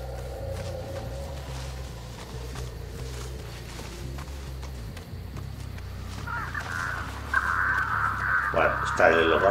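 Crows caw in the Dead by Daylight killer's map over a low droning game ambience, the harsh calls growing louder and more frequent toward the end.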